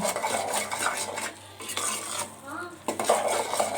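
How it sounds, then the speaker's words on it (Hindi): Halwa being stirred and roasted in desi ghee, a spoon scraping steadily against the pan with a soft sizzle underneath and occasional metallic clinks, close and continuous. "हमने इसमें देसी घी ऐड कर दिया है, और अच्छी तरह से इसको हम भूनेंगे"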